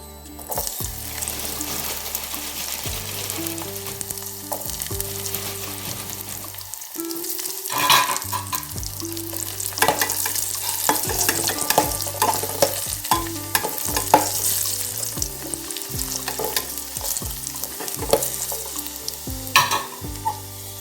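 Raisins frying in ghee in a pan for pumpkin payasam made with coconut milk, a continuous close sizzle broken by repeated clinks and scrapes of a spoon stirring against the metal.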